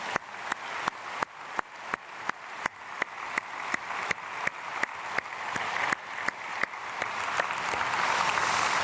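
A church congregation at an early-morning prayer service claps in steady, evenly spaced beats that thicken into dense, continuous applause toward the end, filling the room without any talk.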